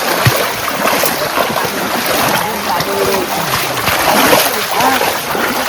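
Waterfall water splashing and rushing in a continuous loud roar outdoors in nature, with people talking under it.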